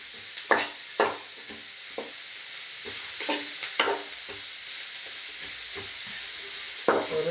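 Shallots sizzle in hot oil for idli upma while a spoon stirs and scrapes the pan in repeated knocks, the steady frying hiss filling the background with no talk.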